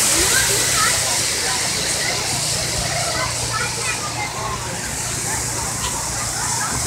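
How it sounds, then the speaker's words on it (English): Falling water feature and lazy river at a ballpark stadium, giving a steady broadband rush and hiss of splashing water that stays loud and constant throughout. "take a dip in the falling waters and laze around in a lazy river"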